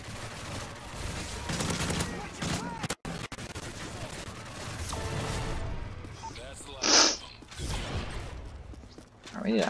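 Rapid automatic fire from a sentry gun in Modern Warfare 3 Survival mode on the Underground map, crackling bursts mixed with other gunfire and mechanical clatter, a brief dropout midway, with voices talking over the din.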